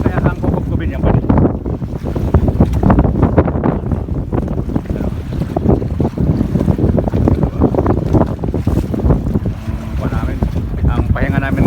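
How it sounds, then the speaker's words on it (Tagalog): Big ocean waves and strong wind on the Pacific, heard from a boat as constant loud rushing and buffeting against the microphone with churning water throughout. "Ayan ang Pacific Ocean, ang lalaki ng alon, oh."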